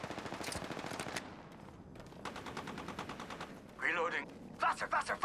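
Automatic gunfire in Apex Legends, rapid bursts of close, loud shots, a brief lull, then more sustained firing with sharp whooshing effects and distinct shot pulses near the end.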